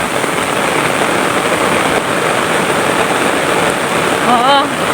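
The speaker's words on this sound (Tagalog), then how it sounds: "Ang lakas kasi ng ulan eh. Hindi nahinto." Heavy rain pours steadily and without letup, a dense broadband wash filling the whole stretch, with a brief faint whistle-like sound near the end.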